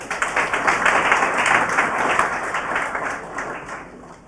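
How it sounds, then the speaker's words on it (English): Audience hand clapping at a quiz event, a steady wash of many hands applauding throughout that holds strong before slowly thinning toward the end. "So a thunderous hand clap will have to do."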